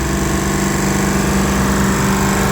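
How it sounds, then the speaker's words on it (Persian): A 100-ton Trane compressor with a failed valve runs loudly and continuously close by, a dense droning hum with steady vibration and no pauses or talk. "صدای بسیار زیادی و کمپرسور داره"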